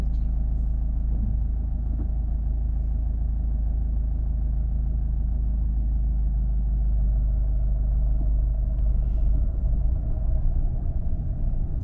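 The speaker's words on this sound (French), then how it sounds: "quand tu sens que ça vibre comme ça. Parce que l'alerte quand ça vibre, c'est qu'on est proche de caler" A car engine runs at low revs during a driving lesson, close to stalling, giving a steady, heavy low rumble with a rough vibration throughout and no talking.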